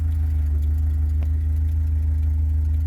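A 1975 Porsche 914 1.8 engine idling, a steady low even rumble close to the microphone with a constant hum and one small click, no voices.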